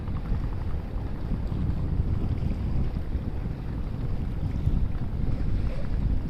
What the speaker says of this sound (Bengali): মাছ ধরার নৌকা